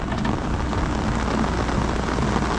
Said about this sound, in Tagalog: At sobrang lakas na talaga ng ulan.